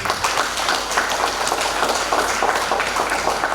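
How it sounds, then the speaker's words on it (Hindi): At a Hindi poetry gathering, an audience gives a loud round of applause in honor of Hindi as official language, a dense, even wash of many hands clapping throughout, with no talk over it. "मैं चाहता हूं कि एक बार जोरदार तालियां आप राजभाषा हिंदी के लिए दें"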